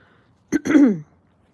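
A single short throat clearing, close and distinct, in an otherwise quiet moment.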